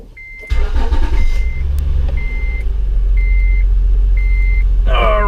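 A car being test-driven after a crossmember or subframe installation starts with a loud close engine rumble, a steady drone underneath, repeated electronic beeps at regular intervals, and a rising rev at the end.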